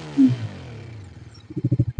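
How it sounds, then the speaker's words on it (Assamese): A Bajaj Dominar 400 motorcycle with a dual-barrel exhaust gets a quick throttle blip near the start. The rising rev fades back toward idle, then a few loud, uneven pulses follow near the end. "এতিয়া মই থ্ৰটেল দিম এনেকুৱা এটা সাউন্ড পাব"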